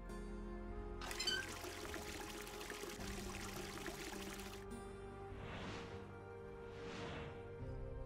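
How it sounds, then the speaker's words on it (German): Water pours into a canteen in the puzzle adventure game Clockwork Tales: a steady splashing stream over a low background hum, followed by two softer swelling gurgles. "Kann ich bei der Feldflasche Wasser einfüllen?"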